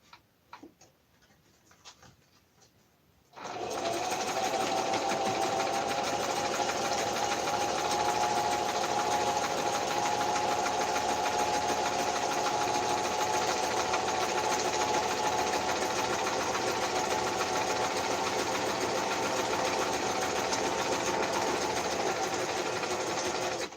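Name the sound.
sewing machine sewing up the bottom of a fabric craft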